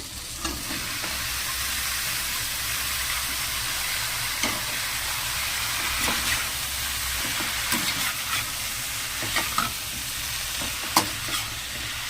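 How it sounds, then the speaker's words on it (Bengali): Finely chopped bottle gourd goes into a pan with hilsa fish head and salt, giving a steady loud sizzle and frying hiss throughout, broken by occasional stirring clinks and scrapes, with no talk. "এবার এখানে দিয়ে দেবো লাউ"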